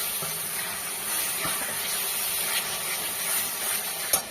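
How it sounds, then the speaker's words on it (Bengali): Mutton pieces and potatoes added to hot spiced oil, a continuous close steamy hiss and sizzle with a few faint clinks of a utensil, steady throughout without talk. "এবার আস্তে আস্তে মাংসগুলো দিয়ে দেবো আলুটাও দিয়ে দেবো একসাথে"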